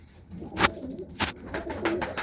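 Pigeons cooing close by in a coop of crested birds, a few soft throaty calls rising and falling over low background rustle, with no talk.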